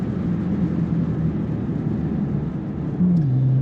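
A 2022 Bentley Continental Speed accelerates on a race track, its engine a steady loud drone close by that swells and shifts pitch near the end.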